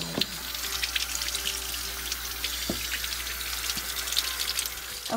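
Running water rinsing emulsion off a photographic plate, a steady broadband wash with a few brief splashes or knocks, fairly close and continuous with no talk.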